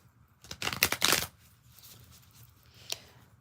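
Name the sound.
tarot cards being shuffled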